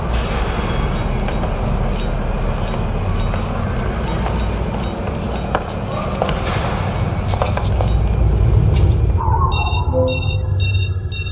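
A metro train runs with a steady loud rumble and rattling wheel noise throughout, rising slightly toward the end, with faint electronic tones near the close.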